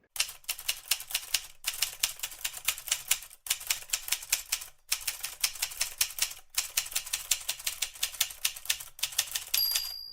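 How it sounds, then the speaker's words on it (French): Typewriter keys clatter in rapid close bursts, several runs of dense strikes separated by short pauses and carriage returns, loud and alone with no voices. "j'ai horreur de taper à la machine"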